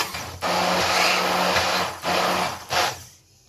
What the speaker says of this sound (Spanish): Esto solamente es batir.